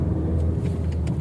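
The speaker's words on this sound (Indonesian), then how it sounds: "Nah nih kayak itu tuh truk tuh lewat." A truck rumbles past on a patched, badly damaged stretch of Jalan Ahmad Yani, a heavy low engine drone that stays steady and fairly close throughout.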